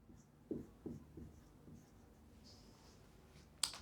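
Marker writing on a board in a physics class, a handful of short scratchy strokes and taps at close range, quiet, with a brief squeak near the end and no voices.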